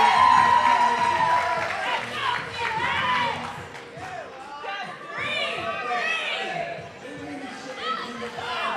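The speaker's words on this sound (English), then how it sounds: "Come on, let's cheer him on here." Spectators cheer and shout for an athlete at a CrossFit-style fitness qualifier event, a busy, sustained crowd roar with scattered whoops, with an announcer talking over it throughout.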